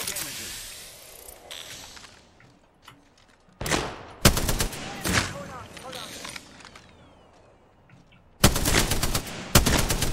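Apex Legends video game gunfire on the Olympus map, scattered shots early on, then sharp, loud bursts of rapid automatic fire, with a player talking over the fighting.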